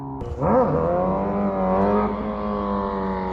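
Vehicles racing and popping wheelies on a quiet town street: a loud engine revs up with a rising whine, then holds a sustained, droning roar nearby.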